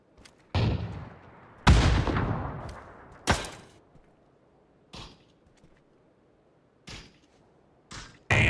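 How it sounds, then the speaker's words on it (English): Explosions and gunfire in the battle royale game Super People 2, several sharp booms with decaying rumbles spaced across the stretch, one large blast near the start and shorter shots after. "That's my grenade, by the way."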